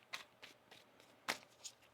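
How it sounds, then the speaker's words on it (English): Tarot cards being shuffled by hand, a handful of soft separate papery riffles and flicks at uneven intervals, quiet and close with no voices. "Get one more shuffle here."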